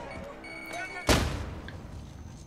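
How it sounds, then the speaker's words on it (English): A grenade explosion in Call of Duty Modern Warfare, a single sharp, loud blast with a decaying rumble that follows some quieter game sounds and voices. "That's a grenade."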